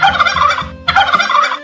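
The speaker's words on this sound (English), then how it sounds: "Turkey." A turkey gobbles twice in close succession, each a loud, rapid burbling call at close range with no other sounds.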